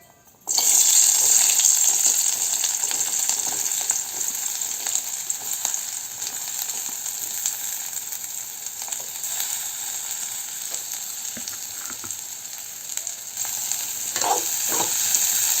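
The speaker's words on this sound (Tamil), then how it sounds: "இப்போ எண்ணெய் காஞ்சிருச்சு இப்போ வெங்காயம் போட்டுடலாம்" Onions hit hot oil for a chicken gravy with a sudden loud sizzle that settles into a steady, close frying hiss, with faint stirring clatter toward the end and no voices.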